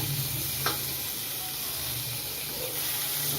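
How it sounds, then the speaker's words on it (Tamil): Soft continuous sizzling of chopped onions and tomato sautéing in a pan, with a faint stir or two, steady and close, no talking. "இதை வந்து 1 நிமிஷம் வந்து வதக்கலாம்"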